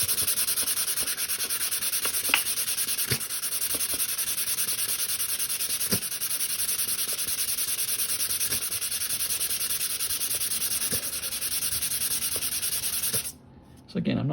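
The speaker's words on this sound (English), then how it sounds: "So I got to sand this quite a bit." Sandpaper rubs steadily over a wooden rubber band gun part in a close, continuous scratchy stroke that carries on for about thirteen seconds before stopping briefly.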